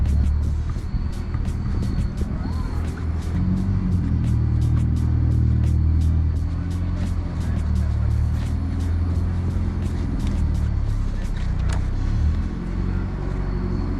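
A JDM legend car idles and rumbles at a night car meet, a deep steady engine drone up close with sharp ticks and clatter over it and no talking.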